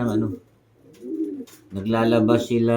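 A breeder pair of pigeons coos in low, rolling phrases, close by, with a stretch of human talk overlapping the calls.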